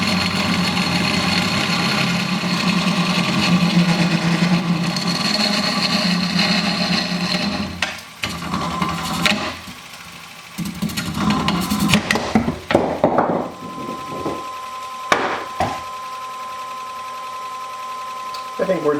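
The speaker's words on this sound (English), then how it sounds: "I am using my ginormous scraper. I think it should help to cut through some of this." A large scraper cuts a bowl on a wood lathe, giving a steady, loud mid-range whir and grind for several seconds, then breaking into rougher, intermittent scraping bursts and pauses.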